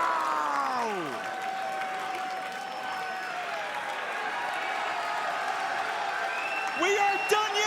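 A wrestling crowd at a Major League Wrestling event roars and applauds, sustained and distant, beneath a commentator talking over the noise, with a sharp surge near the end.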